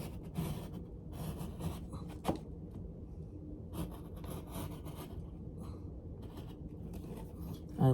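A utility blade slices through a wallpaper mural in short, scratchy cutting strokes broken by pauses, close and fairly quiet, with no one talking.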